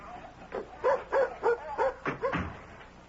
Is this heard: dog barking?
yes